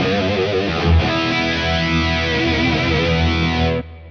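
A Gallien Krueger 250ML amp plays a sustained distorted guitar tone with modulation and reverb, one held chord ringing loud and thick before cutting off.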